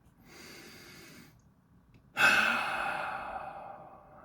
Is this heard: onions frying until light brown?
no